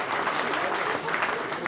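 A local election debate audience in Bladel gives brief, dense applause, close and fairly loud, lasting under two seconds.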